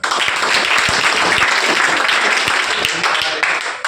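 Loud, sustained applause from an audience at a welcome ceremony honoring top-ranking students, a dense, continuous roar of many hands clapping close by.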